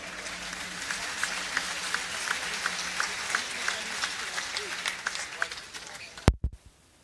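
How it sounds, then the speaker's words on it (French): Audience applause at a season presentation of Castres Olympique rugby players, staff and jersey, a steady crowd clapping for several seconds before stopping abruptly with a few loud final thumps. "Merci à vous les applaudissements"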